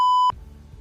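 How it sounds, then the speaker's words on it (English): A single synthetic sound-effect beep plays in a game editor, a clean steady electronic tone lasting about a third of a second and then cutting off abruptly. "Beeps apparently."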